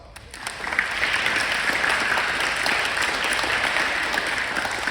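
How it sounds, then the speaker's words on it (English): An audience in a school gymnasium breaks into a round of applause that swells within the first second and then holds steady as a dense, echoing clatter of clapping hands, with no talk over it. "So if you can give yourself a round of applause."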